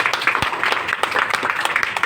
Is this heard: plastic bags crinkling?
no